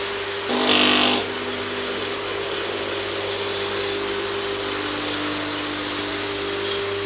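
A Bissell SpinWave powered hard floor mop runs with a steady, even motor whir and hum that holds at a constant level, with a brief louder burst near the start.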